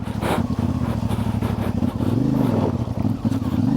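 A CF Moto 450MT motorcycle on Kenda tyres climbs a wet hill, its engine labouring and revving loudly up close in uneven surges, with the pitch rising and dipping as the rear wheel hunts for grip.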